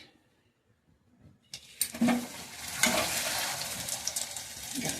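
After a brief silence, hot oil bursts into a crackling sizzle as puchka shells are dropped in to deep fry, bubbling steadily with occasional sharp pops.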